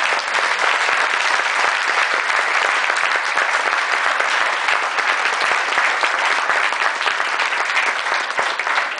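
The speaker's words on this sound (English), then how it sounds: "I would love it if everybody gave a round of applause for that" Sustained, dense applause from a wedding reception crowd for Grandma Mac, steady and loud throughout without a break.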